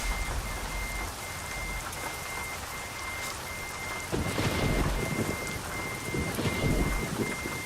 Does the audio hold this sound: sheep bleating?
no